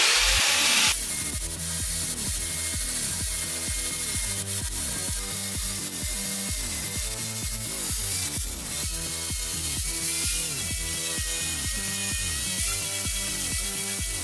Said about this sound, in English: time to start polishing!